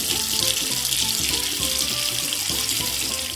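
Tap water pours steadily into a bathtub to rinse soap off a toy baby doll, a continuous close splashing rush with no voices.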